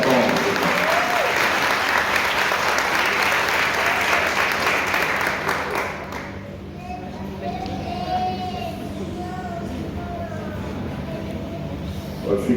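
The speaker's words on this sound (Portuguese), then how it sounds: "Uma salva de palmas." A church congregation at a harvest festival service claps in loud, dense applause that carries on for several seconds, then fades into lighter scattered clapping with murmuring and children's voices.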